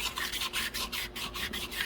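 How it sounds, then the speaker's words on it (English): Fine 400-grit sandpaper scuffing the inside of a chainsaw cylinder, a close rhythmic rasping rub in quick back-and-forth strokes of about five per second, steady and fairly loud with no voice. "I'm going in this cylinder with fine sandpaper. This is like 400 grit, and I'm just giving it one last scuff."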